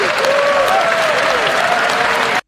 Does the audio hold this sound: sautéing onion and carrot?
no